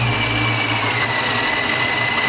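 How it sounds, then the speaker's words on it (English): A centrifugal vortex supercharger running at speed, a steady, loud, dense whine-laden rush with no change in pitch across the short stretch. "Take a listen to the sound of a centrifugal vortex supercharger."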